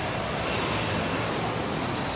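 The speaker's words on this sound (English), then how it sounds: "It seems like every time that I do a video, airplanes go by." An airplane flies overhead outdoors, a steady broadband roar filling the whole clip at a constant, moderately loud level, with no voices.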